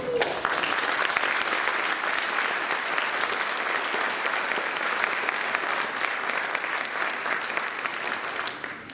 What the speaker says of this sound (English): we're going to give you guys a big round of applause.